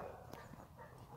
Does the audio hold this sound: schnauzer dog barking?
yes